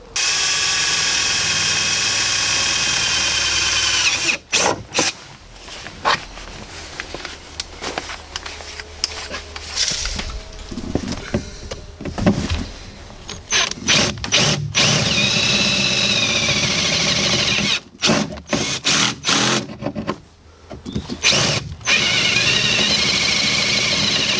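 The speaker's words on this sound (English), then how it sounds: "Love that Dremel." Dremel rotary tool grinding in a garage during Golf MK2 work, a loud buzzing whine cut into uneven bursts with brief pauses and clatter, running most of the stretch.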